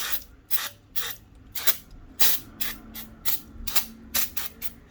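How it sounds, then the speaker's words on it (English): Brake cleaner sprayed on the rear brakes of a 2018 Harley-Davidson Softail Sport Glide in about ten short, sharp hissing bursts in a quick, uneven rhythm, loud and close with nothing else in between. "getting some brake cleaner and cleaning this all off"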